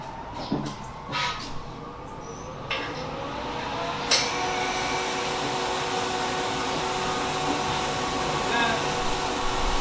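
A plasma cutter powered back on runs with a steady mid-pitched whine and airy hiss, holding constant for several seconds after a few faint clicks at the start.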